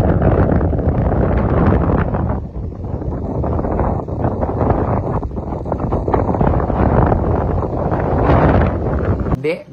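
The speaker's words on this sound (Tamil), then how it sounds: "அப்படியே பாருங்கள் காற்று சவுண்டோட." Strong wind buffets the microphone at a hilltop viewpoint, a loud continuous rumbling roar that swells and dips in gusts for several seconds before cutting off abruptly.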